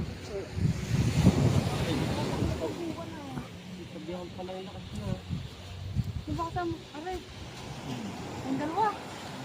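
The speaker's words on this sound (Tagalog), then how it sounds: "ngayon lang lumakas ang hangin" Strong wind gusts roar by the sea during squid fishing, rumbling steadily with wave noise, while people talk and a bird-like chirping rises intermittently.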